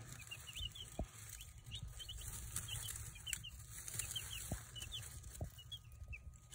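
Chickens cluck and chatter in a farmyard, with repeated short chirpy calls near and far over a steady low rumble and a few sharp knocks.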